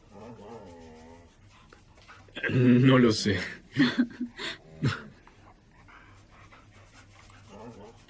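A dog whimpers and pants while being tickled, soft whines at the start and end with a burst of loud human voices and laughter in the middle, and people talking throughout.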